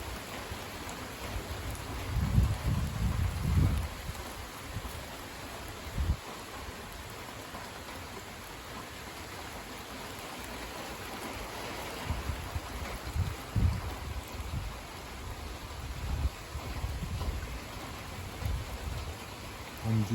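A heavy evening rain shower, a steady broadband hiss of downpour with bursts of louder drumming and splashing throughout, with no talk.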